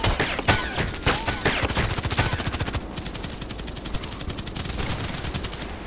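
Rapid automatic gunfire in the online shooter Contract Wars, loud and near, with fast, regular bursts of shots that run almost without pause and ease slightly in volume toward the end.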